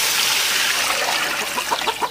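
Measured water is poured into a pot of leg-piece biryani as a steady, close rush of liquid, which breaks into a few gurgling splashes toward the end.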